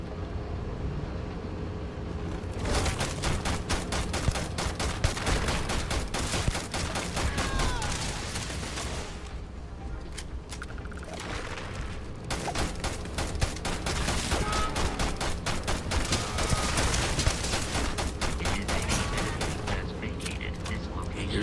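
Dense bursts of automatic gunfire in a video game, loud and sustained over most of the span, with a short pause midway before the shooting resumes.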